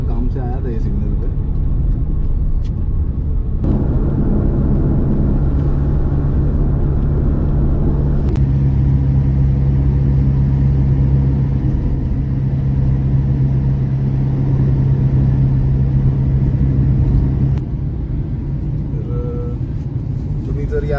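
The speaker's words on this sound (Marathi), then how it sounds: "हे मेन जंक्शन आहे पुण्याचं. इकडे खूप ट्रॅफिक असतं." Steady traffic rumble at a busy road junction in Pune, with continuous engine drone, passing vehicles and a sustained low hum, loud and near throughout.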